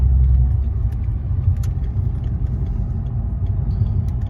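A Volkswagen Passat R36 with 300 hp and a stainless steel valved exhaust gives off a steady deep low rumble, loud and continuous, with no audible talking.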